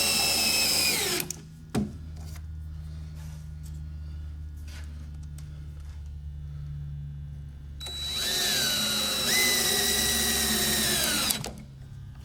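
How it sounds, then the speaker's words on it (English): A power drill whirs in two long bursts while toenailing screws from several angles into a wooden deer feeder, a loud high whine up close, then a steady low hum in between with no talking. "I'm going to toenail my screws in from a couple directions"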